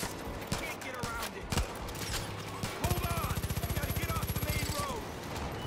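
Rapid automatic gunfire in the video game Far Cry 5: scattered shots and bursts early on, then a long steady burst of evenly spaced rounds, loud and close, with game noise mixed in.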